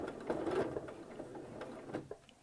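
A sewing machine stitches a multi-layer apron seam with a rapid, steady mechanical patter, close and fairly quiet, with a few uneven pauses as the fabric is fed through slowly.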